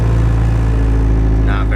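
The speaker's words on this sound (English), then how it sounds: "This is the sound of my old car, the Focus." An old Ford Focus engine running loud and rough, a steady droning hum with strong low rumble throughout, close up, with a brief higher tone near the end.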